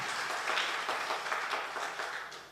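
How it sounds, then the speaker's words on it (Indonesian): Applause from a church congregation during a GBI worship service in Batam: a steady, dense wash of clapping held at a soft, distant level with no break. "Beri tepuk tangan lagi buat Tuhan kita"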